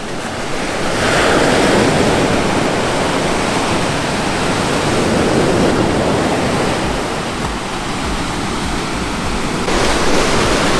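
Ocean waves break and wash continuously at the Sayulita surf beach in Mexico, a steady loud roar of surf with wind noise, swelling slightly as sets roll in.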